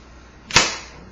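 A single sharp knife strike on a glass cutting board while dicing carrots, one bright close clack that rings briefly and fades.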